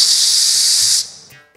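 A pressure cooker vents steam in a loud, steady hiss that holds for about a second before cutting off abruptly and trailing into quiet.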